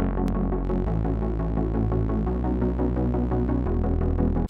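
Harsh, simple synth chord patch layered over a deep sustained bass in FL Studio, dense buzzy chords pulsing steadily while the bass steps to new notes twice, loud and continuous with no talking.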